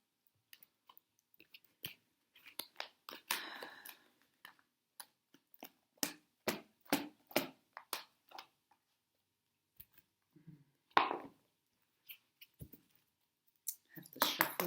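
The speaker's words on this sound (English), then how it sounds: "have to shuffle these, excuse me." A deck of tarot and oracle cards is shuffled by hand, giving quiet, close bursts of soft clicks and flutters in irregular clusters separated by silences.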